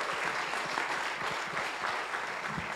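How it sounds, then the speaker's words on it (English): Steady, dense applause from a conference audience greeting a speaker at a beef industry event, sustained clapping throughout with no talk over it. "let's give a really good, nice round of applause for Michael Atwood"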